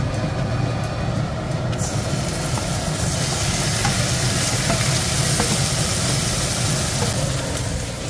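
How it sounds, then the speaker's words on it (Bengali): Marinated mutton fries in a pan with a loud continuous sizzle over a low rumbling hum, while occasional faint scrapes of stirring come through. "আপাতত নাড়িয়ে দিই মাংসটা"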